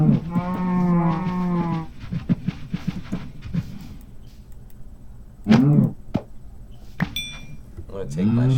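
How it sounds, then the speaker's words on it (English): Cattle lowing inside the Minecraft video game: several drawn-out moos, one long call at the start and more later, over a light background of game sounds and clinks. "Look at all these cows."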